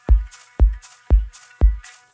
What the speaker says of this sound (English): It's a basic shaker loop, just pre-shifted by 96 milliseconds.